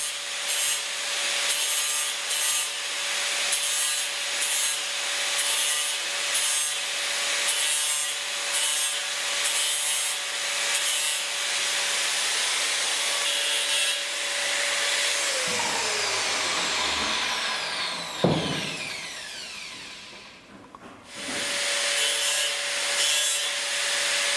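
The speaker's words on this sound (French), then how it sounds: "à l'aide de la meuleuse, je refais un affûtage dent après dent" An angle grinder sharpens a cutting tool one tooth at a time, giving a loud, continuous whining grind that winds down near the end, then a brief restart, with no talk.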